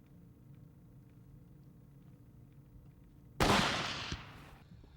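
A single loud rifle shot fired at a big, old wild boar during a hunt cracks out suddenly over quiet outdoor ambience, then trails off in a decaying echo with a smaller bump of sound just after.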